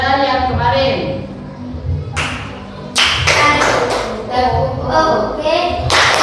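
Pupils in a classroom clap their hands together in several sharp, loud bursts, the clapping breaking in between a teacher's talking.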